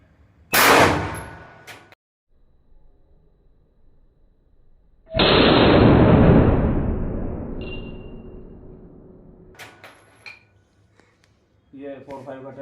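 A .45 ACP pistol fires into a stack of books at an outdoor penetration test, giving one sharp loud crack, then a second heavy blast that rings out and slowly decays, followed by faint handling clicks.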